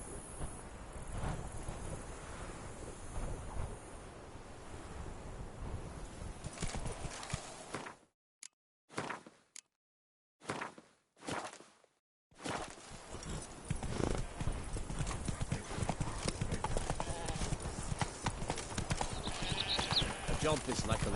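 A horse galloping in The Witcher 3: Blood and Wine, rapid continuous clip-clop hoofbeats with a whinny, briefly cut by silent gaps midway, under game dialogue and wind.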